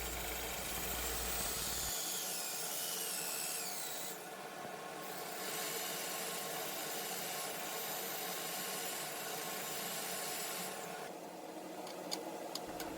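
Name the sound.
sanding a maple wood piece on a lathe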